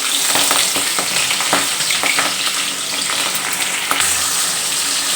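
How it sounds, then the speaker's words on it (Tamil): Mustard seeds, green chilli and onion frying in hot oil in a pan, a loud steady sizzle close up with scattered pops and light stirring clicks, no voices. "கடுகு நல்லா பொரிஞ்சிருச்சு பச்சை மிளகாய் வெங்காயம்"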